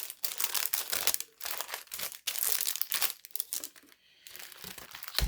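Plastic bag crinkling as heart stickers are packed into it for a Valentine swap, with busy, irregular rustles and crunches close up, briefly pausing a couple of times.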